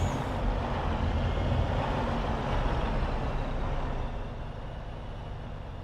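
Heavy truck pulling in within Farming Simulator 22 on a West Australia multiplayer farm map: a loud, steady diesel rumble with broad road noise, easing slightly near the end, with no voices.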